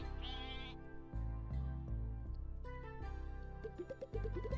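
Sheep in a farm roguelike video game bleat several times in quick, overlapping succession, clear and close over light game music.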